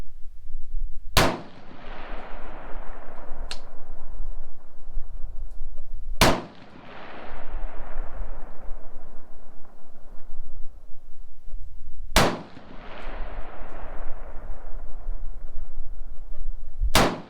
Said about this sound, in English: I'm shooting at the right hand square target.